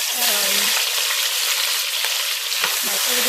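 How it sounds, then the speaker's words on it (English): Onion and garlic frying in hot oil in a pan for Guyanese saltfish, a loud, close, continuous sizzle with brief stirring scrapes. "I'm gonna throw in my onion and the garlic so they could fry for a little bit."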